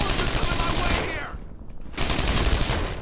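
Sustained automatic gunfire in the World War II shooter Brothers in Arms: Earned in Blood, dense rapid bursts filling the first second, a brief lull, then heavy firing again up close.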